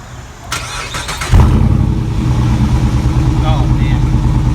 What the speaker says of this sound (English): We got auto start. There you go.